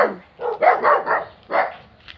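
A dog barks in a quick series of four or five close, loud yelping barks.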